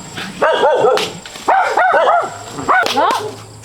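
Dogs at a house keeping many dogs bark close and loud in three bursts of quick, yappy barks with short pauses between.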